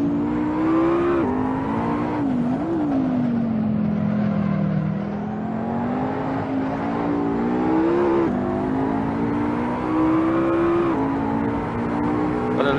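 A race car engine drones in Assetto Corsa at Monza, a loud continuous engine note rising and falling with shifts and throttle changes, close and steady throughout with no talking.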